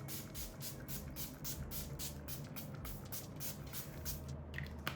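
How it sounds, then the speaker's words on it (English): Makeup setting spray hisses from a pump bottle in a rapid series of short, even bursts, faint and close, with no talking. "We're gonna spray a bit before we do anything else."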